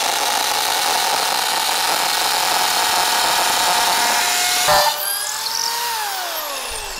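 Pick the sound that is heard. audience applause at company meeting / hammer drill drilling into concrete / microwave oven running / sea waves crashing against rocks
hammer drill drilling into concrete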